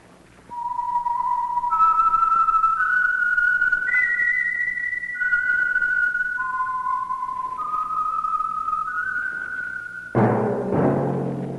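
The theme whistle of The Whistler, a Signal Oil radio mystery program, is a lone, clear melodic whistle rising and falling through a slow eerie tune, and a sudden louder musical burst enters near the end.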